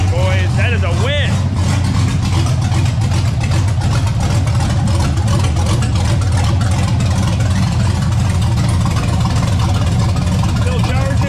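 A brand-new LS V8 swapped into a manual two-door Ford LTD Crown Victoria idles loudly and steadily close by, a deep constant rumble while someone talks over it.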